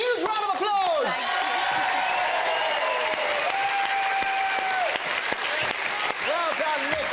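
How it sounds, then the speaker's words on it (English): Studio audience applauding on a televised popular music quiz results show, a loud, dense burst of clapping throughout, with a presenter's voice carrying over it. "A huge round of applause!"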